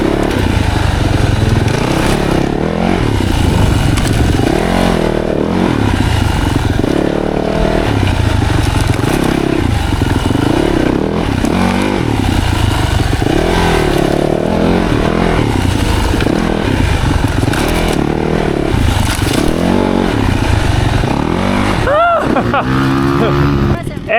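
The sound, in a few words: motorcycle riding and accelerating through corner drills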